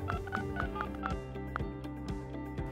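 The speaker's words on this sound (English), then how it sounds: "If there's a phone number and conference ID in the meeting invite, just dial that number to join." Telephone keypad tones dialed to call into a Microsoft Teams meeting: a quick run of short beeps in a regular rhythm, then a few more spaced presses, clear and close over a faint steady hum.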